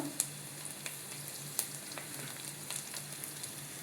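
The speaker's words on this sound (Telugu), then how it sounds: "ఇదండి ముందు వెల్లుల్లి తరిగేసాను. కొంచెం వేగిన తర్వాత" Chopped garlic fries in a pan for cabbage Manchurian, a soft steady sizzle with occasional sharp pops and spatula scrapes, fairly quiet and close, no voices.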